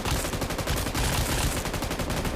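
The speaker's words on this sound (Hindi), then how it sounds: "उसके हाथ पे मैं काफी गोलियां बरसाता हूँ" Rapid, sustained automatic gunfire in a video game boss fight, a dense, loud stream of shots with a steady rattling rhythm and no pauses.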